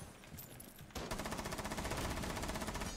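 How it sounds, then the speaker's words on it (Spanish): Gunfire in Rainbow Six Siege, loud and close, shots aimed at the feet, starting with scattered shots and then breaking into a rapid, sustained automatic burst of evenly spaced rounds. "buen disparo a los pies, Caramelo"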